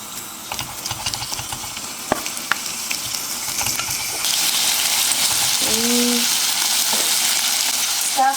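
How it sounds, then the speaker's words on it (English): Pork belly pieces stir-frying in a hot pan for a turnip and pork belly soup, a loud close sizzle with scattered spatula clicks that swells into a stronger hiss partway through, with a brief tonal squeak near the end. "Stir fry until it starts to brown slightly"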